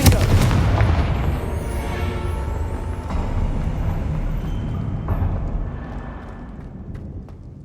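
A Confringo explosive spell goes off in the Hogwarts Legacy video game, a loud boom at the start that rolls into a long rumbling decay, with smaller thuds following as it fades.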